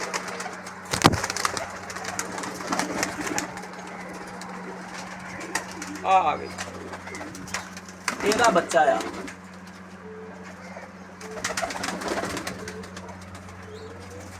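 Pigeons cooing in short, soft bursts from a pet pigeon pair and their chick, under a low steady hum, with someone talking between the calls.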